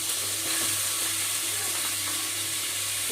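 Washed rice fries in ghee in a pot with a steady close sizzle and hiss, with soft stirring scrapes underneath and no one talking.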